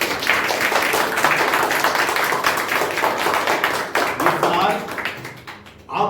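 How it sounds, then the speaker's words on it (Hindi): A congregation at a Hindi-speaking church service claps loudly and briskly, a dense burst of hand claps that thins out and stops near the end. "आइए प्रभु के लिए जोरदार ताली बजाएं"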